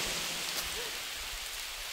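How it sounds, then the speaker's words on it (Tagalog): Heavy rain pours down at Puerto Galera, a dense, steady hiss of rainfall close by that fills the whole stretch without letting up, with no voices. "Malakas ng ulan."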